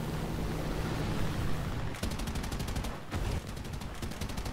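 Rapid bursts of aircraft machine-gun fire in the War Thunder air-combat game. Dense, fast-rattling strings of shots start after a steady engine-like drone and come in two loud, close volleys separated by a short gap.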